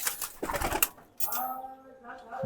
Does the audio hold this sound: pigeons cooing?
yes